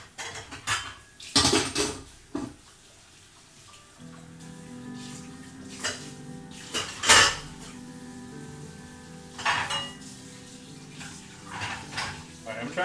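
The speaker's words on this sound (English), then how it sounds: "I'm not going to speed run doing dishes" Dishes, pots and pans being washed in a home kitchen during a cooking livestream, with repeated sharp metallic clatters and clinks of cutlery at close range over running water, with a voice talking now and then.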